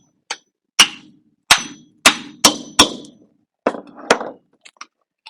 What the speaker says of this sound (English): take my hammer, my nail, I'm just going to hammer it straight through